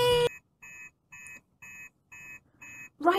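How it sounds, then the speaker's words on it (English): Master alarm in a Fireman Sam cartoon, six evenly spaced electronic beeps after a brief burst of other sound, each roughly a quarter second long, loud and clear, ending as another noise begins. "that's the master alarm"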